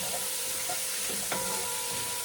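Aromatics browning in a hot pan for Jamaican-style soy sauce chicken wings give a steady, close sizzle with a light stir or scrape partway through, and no one speaks.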